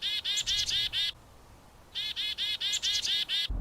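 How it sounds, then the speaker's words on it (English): Rapid series of buzzy, chattering bird calls from a black-capped chickadee, two bursts separated by a short gap, clear and fairly close with no talking. "here's what the black-capped chickadee sounds like."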